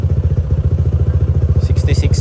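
A loaded 211cc motorcycle engine idles steadily just after a one-click start, its low, even rhythmic putter close and loud, with brief clatter near the end.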